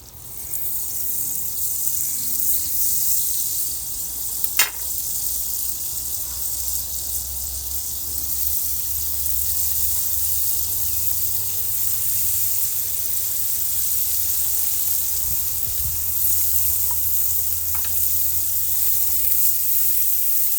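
Andouille sausage and onion sizzling in oil and butter in a pan on an outdoor deck: a steady, even frying hiss runs the whole time, with a couple of brief clicks of utensils and no talk.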